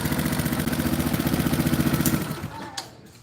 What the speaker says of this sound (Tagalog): Lagitik lang po ng kami maririnig nyo. Normal po sa high lift.